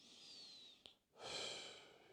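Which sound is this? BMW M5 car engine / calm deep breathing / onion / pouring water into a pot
calm deep breathing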